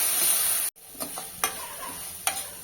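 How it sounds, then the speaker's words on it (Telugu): Ginger garlic paste frying with onions in a pan, a soft sizzle broken by a brief drop-out, followed by a few sharp clicks of a spoon against the pan. The sounds are close and there is no speech. "అల్లం వెల్లుల్లి పేస్ట్ పచ్చివాసన పోయే వరకు ఫ్రై చేసుకోవాలి."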